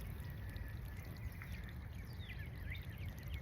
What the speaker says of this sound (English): the water's flowing